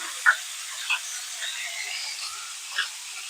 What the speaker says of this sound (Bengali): এখন দিয়ে দেব আমি এই যে মিষ্টি কুমড় গুলা দিয়ে দেব